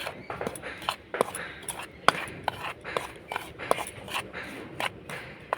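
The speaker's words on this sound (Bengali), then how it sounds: "শুকনো উপকরণগুলো একটু মিশিয়ে নেব" Dry flour ingredients and dried coconut powder mixed in a bowl for a milk-based pitha, with repeated light spoon taps and scrapes against the bowl in an uneven rhythm, close by.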